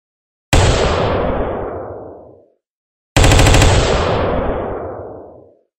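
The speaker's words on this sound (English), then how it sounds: "That was the AR-15 semi-automatic rifle." An AR-15 semi-automatic rifle fires two loud, rapid volleys of shots, each a dense burst of cracks that rolls off into a long echoing decay, separated by a brief silence.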